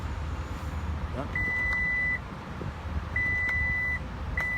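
Two long, steady electronic beeps from a 2018 Lexus power liftgate sound about two seconds apart, and a third begins at the end, over a constant low vehicle rumble.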